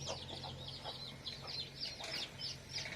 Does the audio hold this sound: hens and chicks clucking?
yes